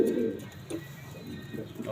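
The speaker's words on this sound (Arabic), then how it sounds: "الحمام كله نشيط والحمام بيزوم." Male pigeons give low, throaty coos in a loft, with a close, fairly loud burst at the start and softer repeated coos after it.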